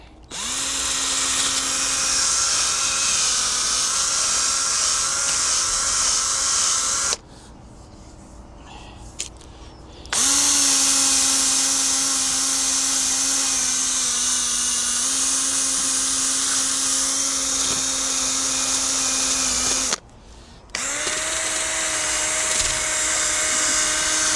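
A drill spinning a sanding pad against a Jaguar X-Type headlight lens, a loud steady whine running for long stretches with two short pauses where the motor stops, then restarts with a slightly changed pitch.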